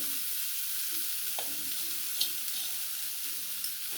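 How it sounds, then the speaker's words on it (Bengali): Grated potato and boiled banana flower dry-frying in a pan with chilli and garam masala, giving a steady, close sizzle with occasional stirring scrapes. "দিয়ে আমি এটা খুব ভালোভাবে কষিয়ে নেব। এতে কোনো রকম কোনো জল দেব না, বেশ শুকনো করেই আমি রান্নাটা করে নেব।"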